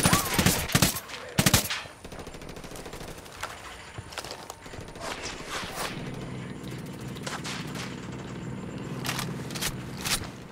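Mounted chain gun fire in Ghost Recon Wildlands, loud bursts of rapid shots at the start, then scattered distant gunfire over a low rumbling vehicle engine.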